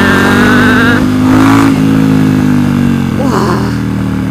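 Ducati XDiavel cruiser motorcycle engine revving hard under acceleration, a loud sustained growl with rising pitch sweeps and throttle surges, close to the microphone, with wind noise.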